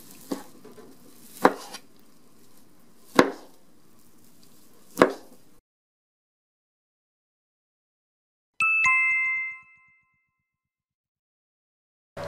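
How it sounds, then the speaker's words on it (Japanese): Fried tofu (aburaage) is sliced into 2 cm pieces on a cutting board: three sharp, evenly spaced knife chops, then a pause, followed by a short bright chime-like ding. "油揚げを2センチ程度に切ります。"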